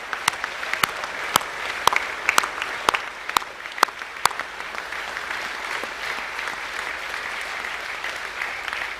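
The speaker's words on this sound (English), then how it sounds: "So could you put your hands together for everybody involved in it?" Sustained applause from a school assembly crowd for musical performers, dense clapping filling the room with a few sharp louder claps near the start, continuing evenly throughout.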